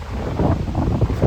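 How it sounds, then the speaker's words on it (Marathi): Strong seaside wind buffeting the microphone at Murud beach near Janjira fort, a steady low roar with gusty surges, close and loud, with no voices. "वारा भरपूरच आहे, वाऱ्याचा आवाज येत असेल तुम्हाला."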